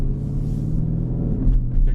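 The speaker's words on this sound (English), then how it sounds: "pick up the sound of the exhaust while I'm driving" A 2021 Audi C8 RS6 Avant with a RedStar exhaust and resonator delete, driving in RS mode on a snowy day: a steady deep exhaust rumble heard from inside the car, with a slight swell near the end.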